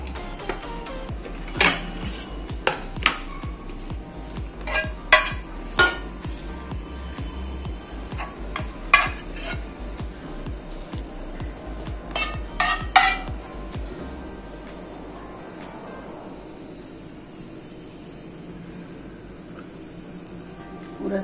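Chocolate ganache poured and spread over an Oreo cake, heard as sharp utensil clinks and taps on a plate or pan, scattered and irregular over a low steady background hum that drops away near the end.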